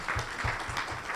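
Audience at a report launch clapping again, a short run of several distinct claps at a regular beat, close and moderately loud.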